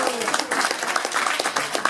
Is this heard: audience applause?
yes